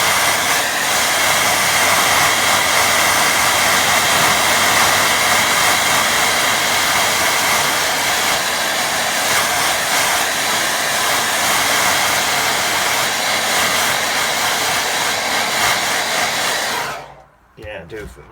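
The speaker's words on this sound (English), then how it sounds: "I'll get another quick blast with dryer" A steady, loud hair dryer blows continuously for about seventeen seconds, then cuts off abruptly, leaving faint room noise.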